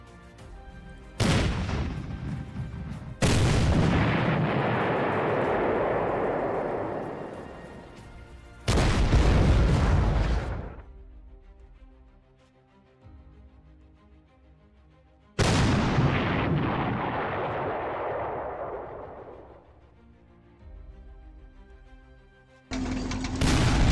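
Artillery fire in the Panzer Corps strategy game: three separate heavy booming blasts, each with a long rumbling decay, spaced several seconds apart with quiet gaps, and a fourth starting at the end.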